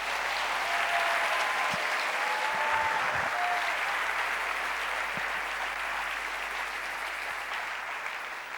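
Church congregation applauding during a sermon: sustained, even clapping from a sizeable crowd, with a few faint vocal exclamations mixed in.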